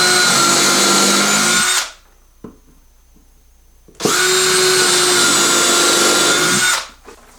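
A power drill drives screws into the center brace of a wooden RC monster truck ramp: two loud, close, sustained whirring bursts of about two seconds each, separated by a short quiet gap with a faint clunk.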